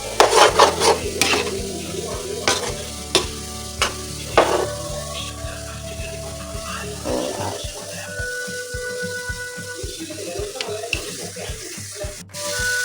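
Potatoes frying crisp in a pan, a steady sizzle under repeated sharp scraping and clinking of a utensil against the pan, close and fairly loud, with no clear talking.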